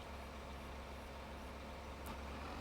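A tractor engine in Farming Simulator 25 idles as a steady low diesel rumble, even and continuous, with a brief high hiss near the end and no talk over it.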